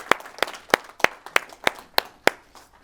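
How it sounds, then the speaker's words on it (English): A small audience at a talk on human rights gives a slow, rhythmic round of applause: about eight evenly spaced, crisp claps, close and clear with little else around them. "Give each other a round of applause for a job well done."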